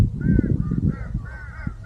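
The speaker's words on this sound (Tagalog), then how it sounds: "kaya kung makapansin nyo may mga uwak" A few hoarse crow caws sound from a short distance over a low, rumbling background.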